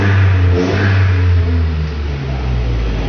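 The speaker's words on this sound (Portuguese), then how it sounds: "Agora o barulho do difusor com todos os itens do motor." A tuned VW up! TSI with an exhaust diffuser and full engine modifications revs hard up close, a loud, deep engine roar that climbs and settles over about three seconds, with no voices.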